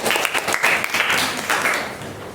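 Applause fills a classroom after a student group's physics presentation, dense and fairly steady for a couple of seconds before tapering off slightly.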